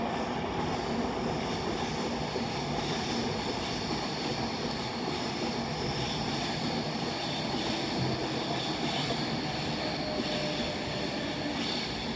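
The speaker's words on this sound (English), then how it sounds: "Here comes a Class 390 forming the 1343 Avanti West Coast service to Blackpool North via Birmingham New Street" A Class 390 Avanti West Coast electric train passes at Primrose Hill, giving a steady, loud broadband rumble and hiss that holds for the whole stretch with no voices.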